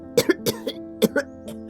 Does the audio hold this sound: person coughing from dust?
yes